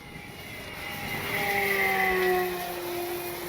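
Durafly Excalibur V2 RC airplane flying at full speed into the wind, its motor a steady whine that rises in pitch and swells louder as it passes, then eases slightly while still running.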